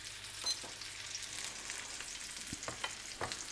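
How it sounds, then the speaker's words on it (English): A sausage patty fries in a pan with a steady close sizzle, broken by a few small clicks and taps from a utensil pressing or moving it. "we're ready to turn over now. For 2 minutes in the pan."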